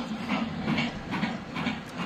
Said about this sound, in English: So, yeah, we're driving the train now.